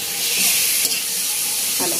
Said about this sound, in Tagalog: Kailangan mo na ipa-brown ko muna yung chicken